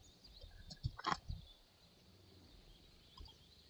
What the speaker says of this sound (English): My first terror bird.